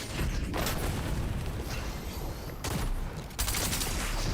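Rapid SMG fire in Fortnite rattles in dense bursts, loud and close, with brief gaps between volleys and no voices.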